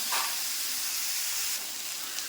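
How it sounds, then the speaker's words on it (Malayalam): Onions with salt sautéed in hot oil while stirring, giving a steady, close frying hiss that runs throughout without pause. "ആ എണ്ണയ്ക്കകത്ത് ഉപ്പും എല്ലാം കൂടെ ചേർന്ന് കൂട്ടി യോജിപ്പിച്ചൊന്ന് നമുക്കൊന്ന് കൂട്ടി ഇളക്കി ഒന്ന് വഴറ്റിയെടുക്കാം"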